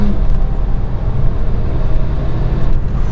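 A car pulls away hard in first gear on a soft launch, its engine roaring close and loud in a dense, unbroken drone for about three seconds.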